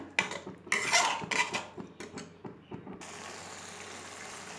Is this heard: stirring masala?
yes